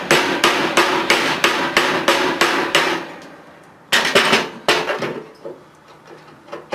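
A rawhide mallet pounds a church bell fitting to knock it loose: a run of about eight evenly spaced, sharp, close blows, then a pause and a few more irregular strikes.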